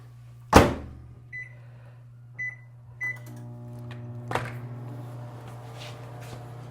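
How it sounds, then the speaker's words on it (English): A kitchen microwave oven used to reheat pulled pork: a sharp door thump, a few short beeps, then a steady low hum with a faint whirring over it. "I'm going to put it in the microwave for a second"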